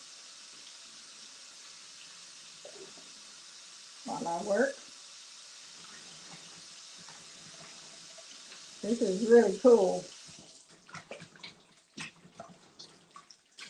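Tap water runs steadily into a sink while beans are washed and snapped during canning prep, a soft continuous stream under someone talking in a couple of short bursts.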